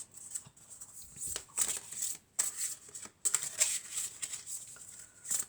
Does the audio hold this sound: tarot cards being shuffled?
yes